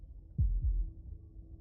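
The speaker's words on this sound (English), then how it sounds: "That was the sound of a heartbeat," Within the Slay the Princess video game, a single deep heartbeat thuds as a soft double pulse, low and muffled against near silence.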